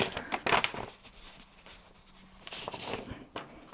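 Paper rustling and tearing as a greeting card envelope is opened, with short crinkly bursts near the start and again toward the end, fairly close and quiet, no talking.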